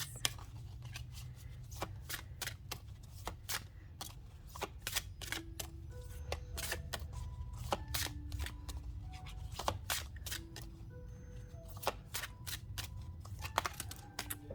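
Tarot cards shuffled close up in a quiet room, a rapid run of crisp riffling snaps and flicks over a low steady hum, with brief faint speech.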